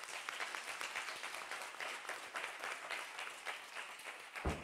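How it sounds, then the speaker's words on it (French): An audience gives sustained applause at an event, a dense, steady wash of many hands clapping that continues throughout. "Alors, salve d'applaudissements nourris."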